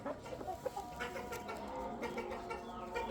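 Several Aseel chickens cluck and murmur close by while being fed, in overlapping, busy bursts, with soft scratching and rustling in between and no talking.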